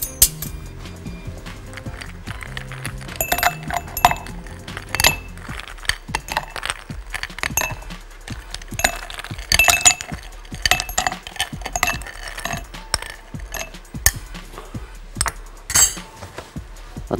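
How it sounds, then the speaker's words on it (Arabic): Ice cubes clink and rattle against a glass in a kitchen, a quick burst of close, bright knocks followed by scattered lighter taps and settling clatter, with no talking. "اول حاجه خالص نجيب مكعبات التلج"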